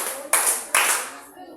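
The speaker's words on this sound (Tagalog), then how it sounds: "So, bigyan si Christine ng 3 palakpak." A classroom of students gives a few quick, sharp bursts of group clapping in unison, each burst fading before the next, close and moderately loud, ending in quiet.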